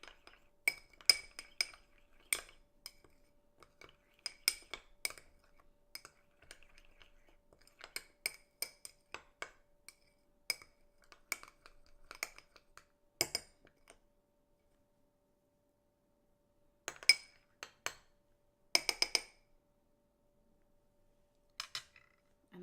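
Vegan ranch dressing with dry dill being mixed in a bowl, bursts of rapid clinking from a utensil tapping against the dish, separated by short pauses, close and crisp.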